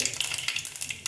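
Mustard seeds crackle and pop steadily in hot oil, a close, busy sizzle with rapid spitting bursts.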